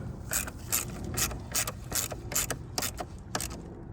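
A ratchet tightens the 10 millimeter battery terminal on a Hyundai Tucson in a quick, steady series of close clicking strokes, about two to three per second, heard alone over a low background hum.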